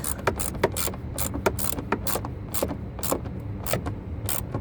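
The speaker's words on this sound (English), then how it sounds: "And then I'm going to snug it up with a ratchet." A ratchet snugging up a plastic part during a car coolant flush, a rapid series of close metallic clicks in irregular bursts over a low background hum.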